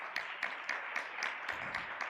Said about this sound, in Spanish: también un aplauso para nuestros 3 panelistas